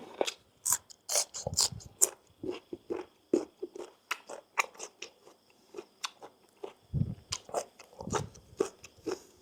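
Close, crunchy chewing of a Thai spicy raw beef dish, with rhythmic bites and crackles repeating steadily, loud and near, with no talking.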